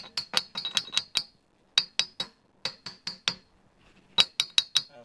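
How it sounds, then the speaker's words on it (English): A small hammer gently taps a metal hydraulic lift cylinder part during a rebuild, giving bright, ringing clinks in quick clusters with short pauses between them, close and fairly soft, without talk. "just small hammer, small hits."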